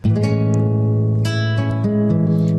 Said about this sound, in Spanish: Pero hay otro mayor que se llama mayor séptima mayor.